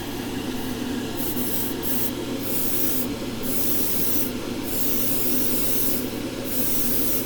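Airbrush steadily spraying liquid silver candy paint onto a Gunpla model as a loud, continuous close hiss, with a few brief breaks in the upper hiss where the trigger eases off, and no talking.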